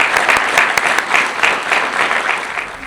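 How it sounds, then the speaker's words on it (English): Audience at a youth services officer core class graduation ceremony applauds in a loud, dense, continuous wash of clapping that holds steady throughout, with no voices over it. "So let's give them a round of applause."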